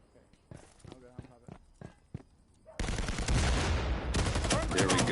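Gunfire bursts in a Rainbow Six Siege pro league match: a few sparse shots, then a loud, dense barrage of firing and blasts through the second half, with a commentator's voice running over it.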